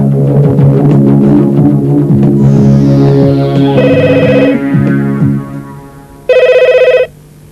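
Telephone bell rings loudly in repeated electronic bursts, with a final sharp ring standing out alone after the sound dips, in an indoor scene from a Hindi drama.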